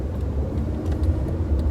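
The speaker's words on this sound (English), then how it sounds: "And now I'm driving, obviously." A car driving along a road, its engine and tyre rumble a steady low drone from inside the cabin, moderately loud and continuous, with no talking.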